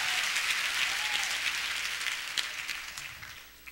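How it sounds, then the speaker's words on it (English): Steady applause from a church congregation during a sermon, dense and continuous, slowly fading toward the end with no talking over it. "Give me a hand clap."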